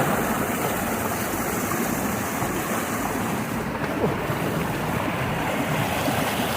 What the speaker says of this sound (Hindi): तो ये है नदी।